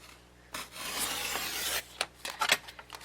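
Paper being trimmed for a gift bag folio gives close scraping and rubbing strokes: a long rasping pass followed by a few short, sharp scratches and taps.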